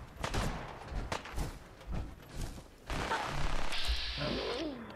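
Gunfire in the Fallout 4 video game: several sharp, loud shots in quick bursts over the first half, followed by a sustained mechanical whine and rumble of game effects, with no voices.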